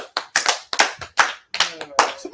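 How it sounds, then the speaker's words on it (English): A small group at a New Year's Eve show claps in uneven, separate bursts, a handful of sharp, close claps with short gaps between them and faint voices in the background. "we need to give her all her credit and clap"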